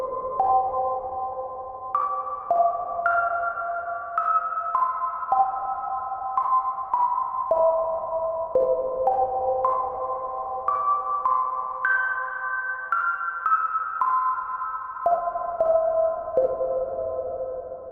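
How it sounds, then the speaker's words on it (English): A Synplant 2 synthesizer patch built from two FM oscillators, a filter, reverb and clipping plays a string of pure, bell-like beeps stepping between pitches, ringing with soft interference-like fuzz under them, alone with no talking. "it actually sounds very close to a beep getting subsumed by interference"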